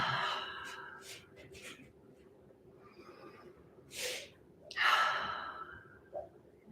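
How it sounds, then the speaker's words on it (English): Deep breaths taken during a guided relaxation session: a few soft, airy inhales and exhales separated by quiet pauses, close and faint. "Taking a nice deep breath in."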